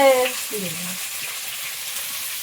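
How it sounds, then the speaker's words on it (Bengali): Panch phoron spices hit hot oil in a pot set on a gas stove, giving a steady, bright sizzle that carries on throughout; a voice is briefly heard over it at the start. "তেলে একটু পাঁচ ফোড়ন দিলাম পেঁয়াজ একটু রসুন তেলে"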